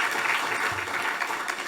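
Church congregation clapping together at a 20th anniversary thanksgiving service, a steady, dense burst of applause filling the room for under two seconds with no voices over it.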